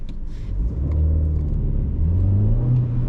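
A car pulls away in first gear on a Leeds road, its engine note rising steadily as it accelerates, close and continuous with a low rumble throughout.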